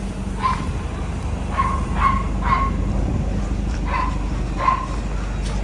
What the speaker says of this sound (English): noisy ass dogs